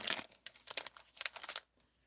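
Laser cut tobacco card sleeves being opened give off a close burst of crinkling and crackling plastic, in several rustling bursts that end in quiet.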